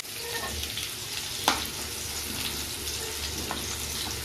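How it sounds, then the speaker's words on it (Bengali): Cauliflower and potato pieces fry in hot oil in a pan, giving a steady close sizzle with a brief clatter partway through and no voices. "দেখো ফুলকপিটা আলুটা পুরো ভাজা ভাজা হয়ে গেছে।"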